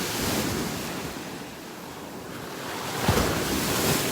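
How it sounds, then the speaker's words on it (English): Big ocean waves pound a beach in North Naples, Florida, with a dense, continuous roar of surf and wind that swells into a heavier crash near the end. "Whoa, big waves pounding here."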